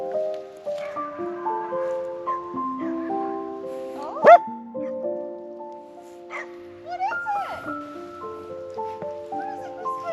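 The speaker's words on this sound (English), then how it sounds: "who was running around our feet, digging holes, chasing animals he would probably never catch, and barking at things we couldn't hear." A homestead dog barks and yips outdoors against a backdrop of sustained musical tones, with short sharp barks scattered through and one louder yelp near the middle.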